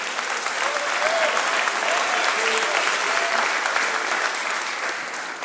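A church congregation claps steadily and enthusiastically in praise for several seconds, a dense, even wash of applause with faint voices mixed in.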